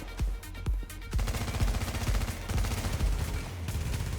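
Rapid automatic gunfire from an online PvP match in the video game The Division, bursts of sharp shots in quick succession, loud and close, with no talking.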